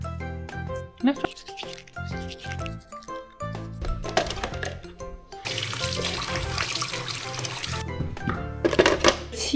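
Tap water runs into a sink during washing up in a hotel room, a close splashing stream under background music and brief talk.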